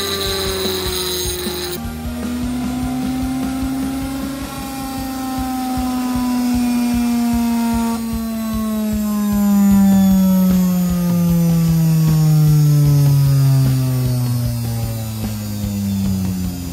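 A homemade grinder powered by a washing machine universal motor whines as its disc spins, the pitch sliding down and rising again in smooth sweeps, loud and alone with no voices.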